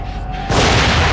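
An explosion in the horror video game The Evil Within (Psychobreak) bursts out halfway through, a sudden loud boom after a quieter stretch that settles into a sustained rumbling roar.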